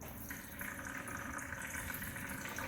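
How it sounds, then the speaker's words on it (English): A steady stream of old engine oil pours and splashes into a bucket, continuous and close, with no talking. "I'm just draining it into a bucket,"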